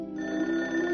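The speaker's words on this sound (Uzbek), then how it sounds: "Telefon keldi." A cartoon telephone rings with a bright, sustained electronic bell tone, close and clear, lasting about a second with no talking over it.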